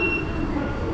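Metro train at an airport station in Ningbo, a loud continuous rumble with faint high-pitched whine and wheel squeal, heard up close without voices.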